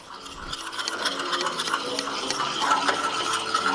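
A melted butter mixture is stirred in a pot for a turtle brownie pie, giving a continuous close scraping and rattling of the utensil against the pot, with no talking.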